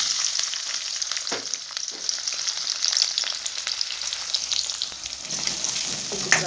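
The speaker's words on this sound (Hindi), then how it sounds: "घी हो गया गरम, मैं इसमें डाल रही हूँ प्याज।" Onions frying in hot desi ghee, a loud continuous close sizzle with crackling bursts and occasional stirring scrapes, steady throughout with no voices.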